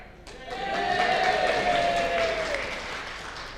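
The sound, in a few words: audience clapping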